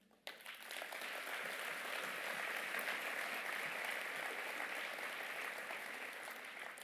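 Applause from an audience at a town New Year's greetings ceremony in Herblay, a dense and steady wash of many hands clapping that swells quickly and holds, heard from a moderate distance.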